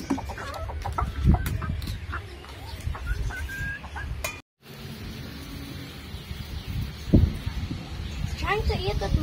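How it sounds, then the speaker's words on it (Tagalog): Chickens cluck and chatter nearby at a children's farm in Sharjah, UAE, in a busy, noisy setting, with people talking over the birds throughout. "Manok chicken."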